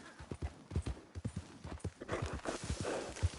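Horse hooves clip-clopping in Red Dead Redemption 2, a fairly quick run of thudding hoofbeats with a brief whinny, some game ambience, and nearby talk in the background.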